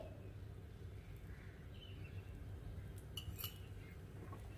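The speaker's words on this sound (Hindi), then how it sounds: "इस तरह से चारों तरफ घी डाल देंगे" Ghee being poured around a green moong and paneer chilla in a pan and spread with a spoon, heard as faint light metallic clinks and scrapes over a low steady background hum.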